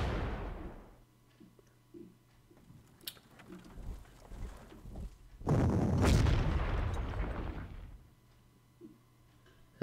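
Artillery fire in the strategy video game Panzer Corps: a few distant thuds early on, then one heavy, long booming blast that rumbles for a couple of seconds before fading to quiet.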